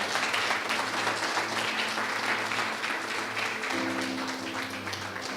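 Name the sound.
church congregation applauding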